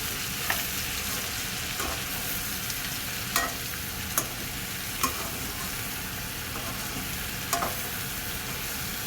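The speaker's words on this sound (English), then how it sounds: "Again, giving it a proper stir." Chicken egg fried rice sizzles steadily in a hot pan for a simple Thai recipe, with a handful of sharp spatula scrapes and taps spaced a second or two apart as it is stirred; close, loud and free of talk.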